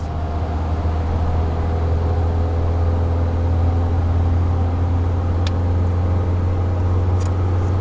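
A car racing alongside and overtaking a Jaguar XF on the road gives a constant, loud, low engine and road drone heard from inside the cabin, with no clear rise or pass. No one speaks.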